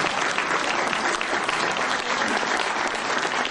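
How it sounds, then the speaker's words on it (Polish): Warm round of audience clapping at an award ceremony, many hands in a continuous, even roar lasting a few seconds with no speech over it. "Gorące brawa również dla nich i wyróżnienie."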